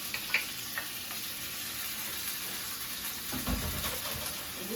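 Tomatoes and onions fry in a pan with a steady, even sizzle, close and moderately loud, with occasional stirring clatter and a brief low thump near the end.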